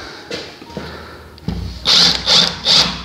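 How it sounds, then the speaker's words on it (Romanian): A power drill drives screws into wall profiles while building a decorative wall, with a few light knocks followed by three short, loud whirring bursts, close by and with no talking. "Dăm șuruburi rapid."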